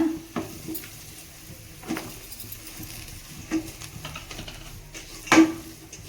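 Grated raw coconut fries in a pan while being stirred, with a faint sizzle under several distinct scrapes and clinks of a utensil against the pan at irregular intervals.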